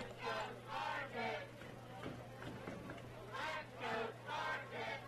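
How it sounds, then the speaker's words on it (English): At a Division III college football game between Defiance and Manchester, the Manchester home crowd chants and cheers in rhythmic waves that rise and fall, heard from a distance behind a commentator's voice. "we can hear Manchester's crowd. I mean, they are getting into it"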